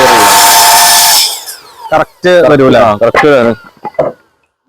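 A degree cutter whines loudly through wood in a furniture factory for about a second, then stops, followed by someone talking.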